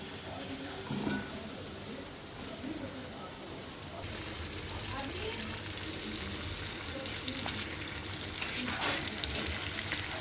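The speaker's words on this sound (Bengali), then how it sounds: "অল্প হলুদ নুন দিয়ে আলুগুলো ভেজে নেব" Potatoes seasoned with turmeric and salt fry in hot oil with a steady, fairly close sizzle that swells louder halfway through. Faint stirring and a watery hiss sit in the background.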